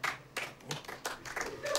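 Studio audience clapping on a comedy game show, uneven bursts of hand claps rising and falling over a short stretch with faint voices mixed in.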